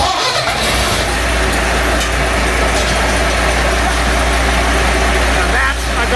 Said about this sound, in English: that's a Gardner. First crank, first time.